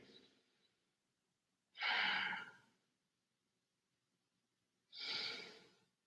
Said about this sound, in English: Take deep breaths here.